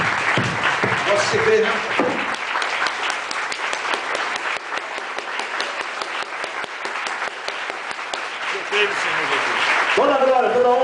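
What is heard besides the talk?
congregation applauding in church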